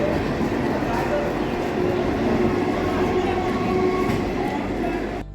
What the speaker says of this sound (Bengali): বাতকুল্লা ছেড়ে ট্রেনটা তার গন্তব্য কৃষ্ণনগরে চলে গেল।